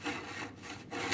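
A hand saw cuts wood for a dovetailed box in steady back-and-forth strokes, close and fairly quiet, with a rasping sound and brief pauses between strokes.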